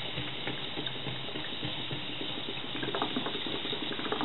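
Water is poured onto hot coals in a synthesis furnace, making a continuous hissing, bubbling rush that holds steady for several seconds with no speech.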